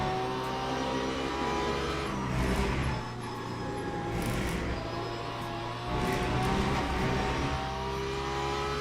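Porsche race car in the Le Mans Ultimate racing sim, run with an aggressive setup: a steady, loud engine drone with strong low harmonics and a rising-and-falling pitch as it revs, with no talk.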